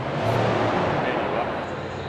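A car pulls up close and its engine revs in a loud, steady roar that stays high for about two seconds, with broadband road and engine noise throughout.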